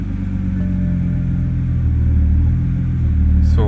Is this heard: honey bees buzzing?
no